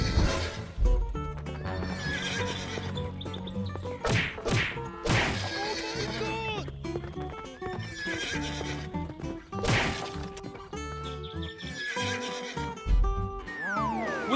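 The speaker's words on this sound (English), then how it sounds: "We must stop the horse." A horse neighs and whinnies repeatedly, several loud calls rising and falling, over clip-clopping hooves and occasional thuds and crashes in a busy animated scene.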